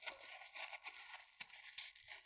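A thick sunflower leaf is torn in short ripping bursts, close and crisp, with a sharper snap partway through and quiet pauses between tears.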